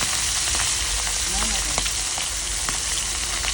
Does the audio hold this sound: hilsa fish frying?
yes